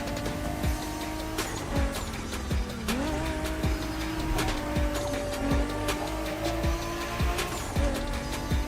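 A Toyota Supra races in the video game The Crew Motorfest, its engine droning steadily with gear shifts and repeated sharp tire squeals and skids throughout.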